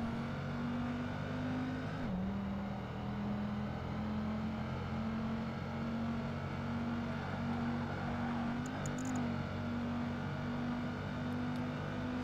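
A Dodge Viper and a Noble race one-on-one in Project Gotham Racing 2, with a loud, steady engine drone holding one pitch, dipping briefly at a gear change, plus faint tire noise, with no talking.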